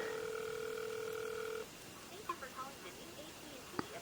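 Samsung Eternity phone placing a call: a steady two-tone dial tone sounds alone, then cuts off into faint scattered electronic blips and a short click.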